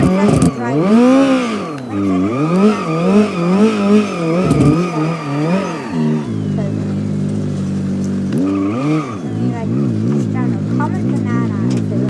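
A Toyota AE86 Levin in BeamNG.Drive revs hard through rising and falling gear sweeps with tire squeal, then settles into a steadier engine drone before revving again, loud and close, with a voice talking over parts of it.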